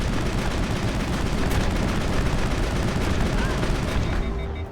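Sustained gunfire during combat in the Mass Effect video game, a dense, continuous barrage of loud shots running without a break for the whole stretch.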